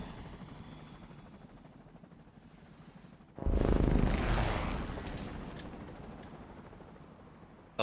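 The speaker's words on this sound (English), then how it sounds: "Ooh, helicopter." Helicopter flying in the video game Persona 5 Royal, a loud broadband rotor and engine roar that surges in suddenly and then slowly fades while staying steady.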